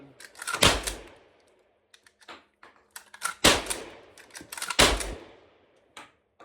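A Cimarron 1887 12-gauge lever-action shotgun fires three loud, booming shots of low-recoil one-ounce cowboy loads outdoors, each ringing briefly, with sharp metallic lever clacks and clicks of cycling and loading between them.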